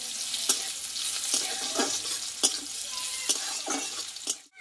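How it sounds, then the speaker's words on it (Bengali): Onions frying in a pan for a pumpkin-leaf paste, a close steady sizzle broken by several sharp scraping stirs of a spatula against the metal, roughly every second, with no talking. "দিয়ে পেঁয়াজটা একটু ভালো করে ভেজে নেব।"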